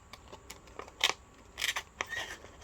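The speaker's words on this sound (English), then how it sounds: "I really shouldn't be using these scissors, but they're handy" Scissors cut paper for a mixed media collage, a quick run of sharp close snips and crisp crunching cuts at an uneven rhythm, heard alone without speech.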